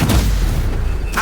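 Incendio fire spell cast in Hogwarts Legacy, a loud booming burst of flame with a rumbling roar that fills the moment, closing with a brighter flare.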